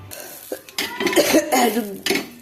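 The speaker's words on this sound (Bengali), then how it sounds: "এই যে এই পেঁয়াজের দিয়ে ঘষে দিচ্ছি।" A cut onion is rubbed across a hot tawa griddle while preparing dosa, giving a short sizzling, scraping hiss in uneven strokes up close, with a faint clink of metal.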